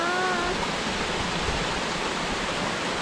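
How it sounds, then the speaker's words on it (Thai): Rushing water pours continuously in a dense, even roar from a nearby forest waterfall on the Pico das Pedras trail, Santana, Madeira, with a brief tonal whistle at the start. "มีน้ำตกด้วยนะ"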